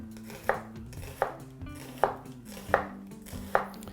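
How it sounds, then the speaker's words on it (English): A knife slicing through an onion on a cutting board, five firm, evenly spaced chops landing close and clear with short pauses between, no talking. "I'm using my shoulder to push through the onion"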